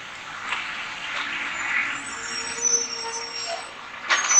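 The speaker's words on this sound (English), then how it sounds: "Garbage trucks here, forgive the noise." A garbage truck works nearby on a street, its engine droning under hissing air bursts, with a sharp air-brake release near the end; no one speaks.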